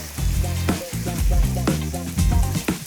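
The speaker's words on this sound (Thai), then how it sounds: "เริ่มจากใส่น้ำมันพืชลงไปครับ ใส่หมูของเราลงไปครับ" Pork sizzling and spitting in hot vegetable oil, a loud, steady crackle with occasional scraping as it is stirred.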